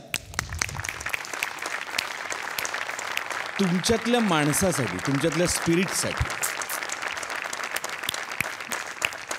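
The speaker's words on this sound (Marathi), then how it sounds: "सगळ्यात आधी जोरदार टाळ्या" A studio audience at a Marathi comedy show breaks into loud, sustained applause that fills the whole stretch, and someone speaks over it midway.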